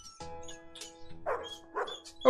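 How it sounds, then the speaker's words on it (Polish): A dog in the video game Animal Shelter gives a few short barks and yips, two or three spaced bursts over a steady tonal game hum with chiming notes. "Ale ładny piesio"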